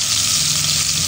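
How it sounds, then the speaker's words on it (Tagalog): Ginger and garlic sizzle in hot oil in a pan, giving a steady, close, hissing fry for about a second with no talk. "naglagay na tayo ng oil. Then, lagyan natin yan ng ginger. Then, 3 cloves of garlic."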